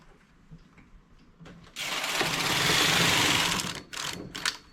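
A knitting machine carries a zigzag row in thick wool: a quiet lead-in, then a loud two-second mechanical whirring rattle as the carriage sweeps across, followed by a few short clacks.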